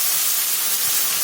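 Spice paste fries in a pan with a bay leaf and whole cumin for a vegetarian aloo paneer, making a steady, close, even sizzling hiss throughout with no speech.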